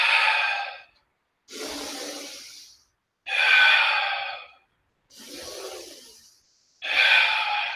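Deep, deliberate breaths during a Move+Breathe exercise session, five long airy strokes alternating inhale and exhale, each about a second and a half with brief silent gaps, close and loud with no talk.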